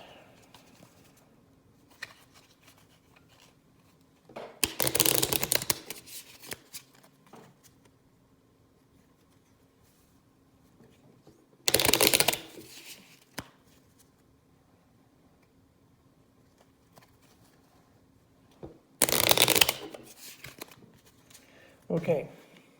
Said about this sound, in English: And I'm shuffling.